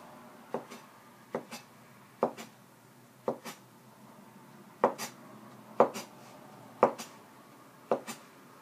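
Knife slicing through folded pasta dough into fettuccine strips on a board, about eight crisp, evenly spaced cuts landing roughly once a second, close and moderately loud, with no talking.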